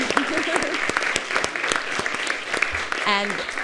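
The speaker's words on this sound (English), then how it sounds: "A big round of applause for you" Audience at a city commission workshop applauding parents, with scattered sharp claps and cheers under ongoing talk, and a voice rising briefly near the end.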